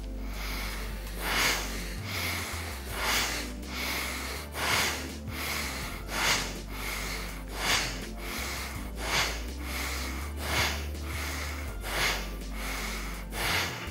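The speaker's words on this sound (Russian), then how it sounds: "Дышим через нос." Rapid, forceful bellows breathing through the nose during a yoga exercise at an outdoor yoga session on a city square, with a steady run of about ten sharp, rhythmic exhalations over a continuous low background hum.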